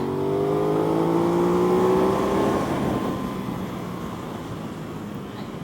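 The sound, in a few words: Aprilia RS660 motorcycle engine at low revs on track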